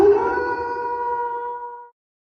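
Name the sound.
howl sound effect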